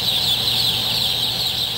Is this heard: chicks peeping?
yes